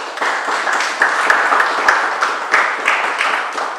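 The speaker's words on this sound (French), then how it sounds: "j'aimerais qu'on les applaudisse, s'il vous plaît" Applause from an audience at a Kimbanguist church gathering in France, a steady dense clapping that carries on throughout with a few sharper individual claps standing out.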